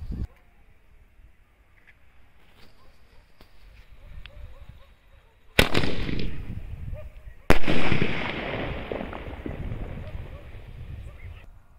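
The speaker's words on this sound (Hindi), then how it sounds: "ये देखा भाई आपने क्या शानदार चला हमारा स्काई शॉट" Two sky shot firecrackers go off at a Diwali fireworks test, each a sudden loud bang followed by a crackling, fading burst, separated by a couple of seconds of quiet.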